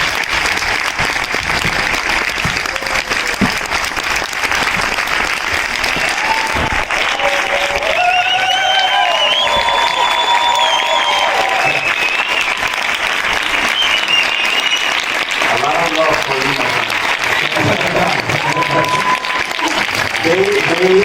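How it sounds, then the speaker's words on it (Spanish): A lecture audience gives a strong, sustained round of applause for Dr. Nathan Lewis at a sports nutrition talk, loud dense clapping throughout with a melodic tone and a voice rising over it partway through. "Un fuerte aplauso para el doctor Nathan Lewis"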